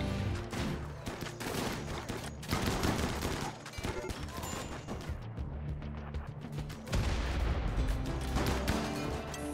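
Gunfire in the RimWorld video game, loud and dense, crackling and booming in steady volleys across the whole stretch rather than one isolated sniper shot.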